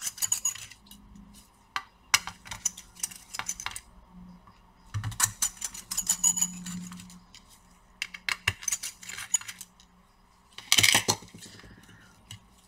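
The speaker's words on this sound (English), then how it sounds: "Now we have to take out the screws which are holding the actual cooler." Screws are removed from the cooler of an AMD Radeon RX 6600 Pulse graphics card, giving sparse small metallic clicks, taps and rattles close up in a quiet room, with one louder clatter near the end.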